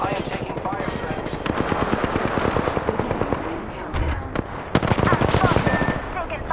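Apex Legends battle royale gunfire rattles almost without pause, loud rapid automatic bursts and shots stacked close together throughout, with in-game character voice lines mixed under the shooting.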